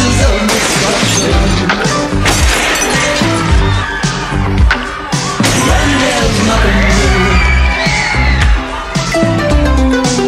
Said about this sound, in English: I love the sound of breaking glass.